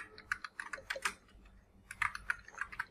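Typing on a computer keyboard while entering a scenario name in Excel, with quick irregular bursts of key clicks, a short pause in the middle, then another run of taps, close and moderately quiet.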